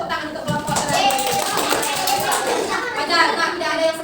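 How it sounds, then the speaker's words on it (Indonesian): Dense clapping from a classroom group during a teaching-practice session, steady and close for the full stretch, with children's voices chattering underneath. "Kasih tepuk tangan untuk kelompok"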